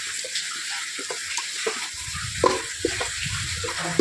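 Chicken biryani masala with curd fries in oil, a close, steady low sizzle with small pops and occasional stirring clinks, no talking.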